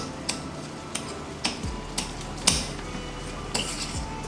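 A utensil presses and smashes tomato pieces in a pan of arrabbiata sauce, making regular, sharp taps and soft clacks about every half second, close and fairly quiet over a faint simmer.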